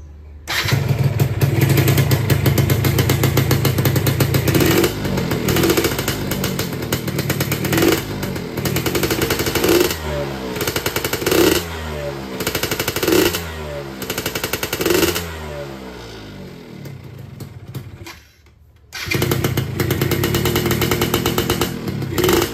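A motorcycle fitted with a Killer Whale road-race exhaust, loud and close, idling with a raspy burble and then blipped through repeated sharp revs, with a short drop in sound before it picks up again.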